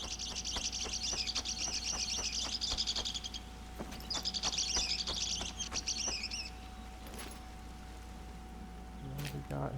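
Two rapid high-pitched bird trills ring out over a steady wilderness ambience in the hunting game theHunter: Call of the Wild, separated by a short pause, followed by a few soft clicks near the end.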